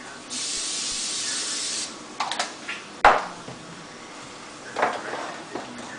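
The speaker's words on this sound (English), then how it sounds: "Generously spray your pan." A steady hiss of cooking spray lasts about a second and a half, followed by a few clinks and knocks of a pan and utensils nearby.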